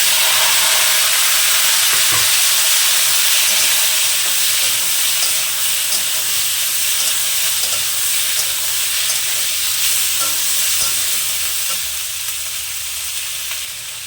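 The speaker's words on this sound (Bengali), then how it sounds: "লঙ্কাটা একটু ভাজা ভাজা হয়ে গেছে এবার দিয়ে দেবো কেটে রাখা টমেটো" Chopped tomatoes frying with green chili paste in oil tempered with mustard seeds, for a sour small-fish curry. A steady, close sizzle and hiss runs throughout with a few soft stirring knocks, alone and easing slightly toward the end.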